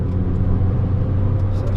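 Fiat Abarth 500 engine held at full throttle on the Mondello Park race track, a loud steady in-car drone with a strong low hum throughout.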